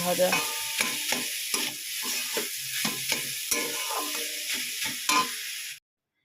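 Tomato mash with turmeric frying in a pan, a steady loud sizzle broken by repeated rhythmic scrapes of stirring, about a dozen strokes, ending abruptly in silence.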